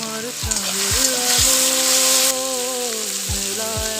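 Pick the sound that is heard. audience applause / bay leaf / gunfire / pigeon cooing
bay leaf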